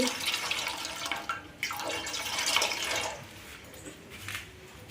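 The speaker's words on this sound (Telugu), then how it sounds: "ఇప్పుడు ఇందులో వాటర్ పోసుకోవాలి" Water pouring into a pot to be boiled for rice-flour chekkalu dough, in a few splashing bursts, loud at first then tapering off to a quieter trickle.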